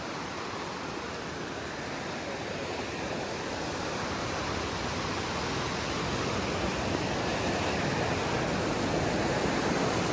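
A river flows steadily after a landslide at Vilangad, its water rushing in a dense, even hiss that holds constant and slightly swells toward the end, with no voices present.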